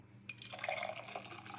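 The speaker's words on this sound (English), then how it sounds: "After you do that, then pour it into a cup." A drink poured into a cup, a brief close trickle and splash of liquid that starts abruptly and runs for about a second.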